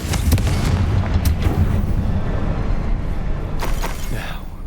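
A Confringo spell explodes in Hogwarts Legacy, with several loud, close booming blasts that burst and rumble over a steady roar, and a voice speaks through the noise.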